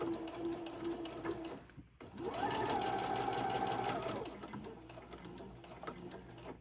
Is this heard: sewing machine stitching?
yes